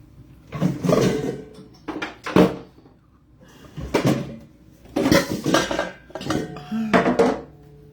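Pots, pans and cutlery clatter and bang in bursts, close and loud, with sharp metallic knocks and short pauses between rummaging sounds in a kitchen.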